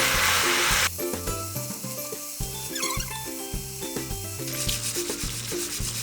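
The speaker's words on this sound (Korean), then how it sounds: "숨이 좀 죽어가지고 볶으면서 센 불로 수분을 날릴게요" Bean sprout bulgogi stir-fries over high heat, a continuous loud sizzle with rhythmic scraping and rubbing of a utensil stirring against the pan.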